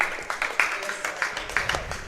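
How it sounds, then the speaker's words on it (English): Audience clapping during a pool match, an extended run of uneven claps rising and falling in bursts, moderately close, with faint room noise beneath. "an extended period of clapping there"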